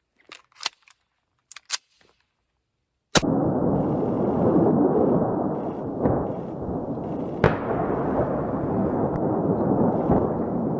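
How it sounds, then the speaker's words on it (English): A Derya Arms Melik shotgun fires one loud, sharp report at close range. A long roaring wash of noise follows and is broken by two fainter cracks, all after a few faint clicks and handling taps. "first shot's Derya arms"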